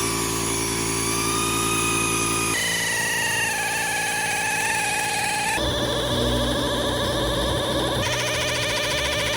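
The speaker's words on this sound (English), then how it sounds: "This is an air shear. This is way better than cutting metal with snips." Pneumatic air shear cutting sheet metal for a race car body in a shop, a loud continuous mechanical whine and rattle that shifts pitch in several distinct stages, close by and without talk.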